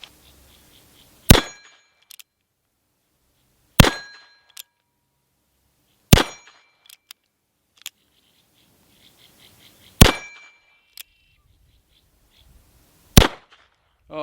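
Six sharp shots from a Cimarron 1862 Pocket Navy conversion revolver chambered in .380 ACP, spaced a few seconds apart, each a loud crack with a short ringing tail and faint metallic clicks between.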